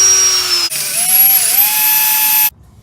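A high-pitched drill with a 5/16 bit whines steadily while boring into a Jeep Wrangler's metal caliper bolt hole, its pitch shifting slightly as it cuts, then stops abruptly.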